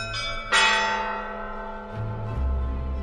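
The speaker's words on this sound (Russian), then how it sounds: "Звон колокольный, который не умолкал несколько дней по поводу свадебных торжеств." Church bells ring out for royal wedding celebrations, two loud clanging strikes with long, shimmering resonance decaying between them, followed by a deeper tolling bell joining in near the end.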